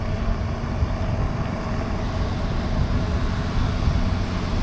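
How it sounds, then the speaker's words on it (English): Heisler steam locomotive at the Cass Scenic Railroad in West Virginia, heard as a steady, low rumbling engine drone that holds a constant level throughout with no voices. "It's the Heisler engine."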